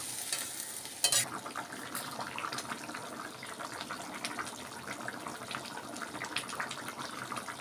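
Rice simmers in water in a pot, a quiet continuous bubbling with a brief sharp clatter near the start, heard close and alone.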